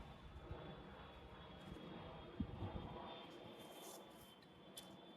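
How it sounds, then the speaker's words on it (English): A large, low-flying aeroplane passes overhead above a garden greenhouse as a faint, broad engine rumble that swells slightly and then eases, with light rustling nearby. "Oh, there's a massive aeroplane."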